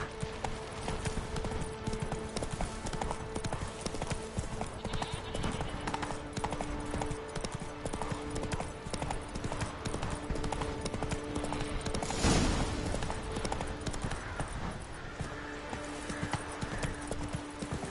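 Roach the horse trots in The Witcher 3: Wild Hunt, a steady run of close clip-clopping hoofbeats over a sustained game-music backdrop, with no voices.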